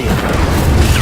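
A spell blast from a wizard video game, a short, loud booming burst with a crackling pop, heard on its own.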